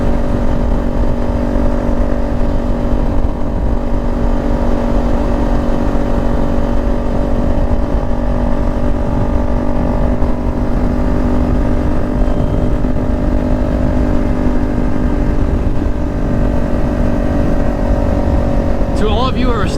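A motorcycle engine droning steadily underneath a rider's voice while riding, a constant loud hum with stable tones that holds for the whole stretch.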